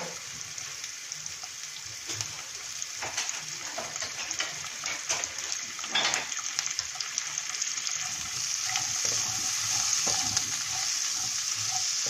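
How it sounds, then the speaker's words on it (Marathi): Ivy gourd sautéing with salt and turmeric in a pan over a low flame: a soft, even sizzle with intermittent spatula scrapes and taps, growing slightly louder toward the end, with no one talking. "गॅसची फ्लेम मंद ठेवून तोंडली परतूया"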